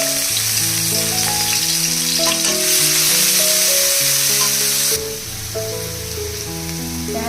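Loud, continuous sizzling of onions frying in oil, a dense crackle that drops slightly in level near the end, with faint background music.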